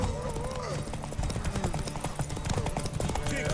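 Rapid clip-clop of galloping horse hooves in The Witcher 3, with voices and busy background noise throughout.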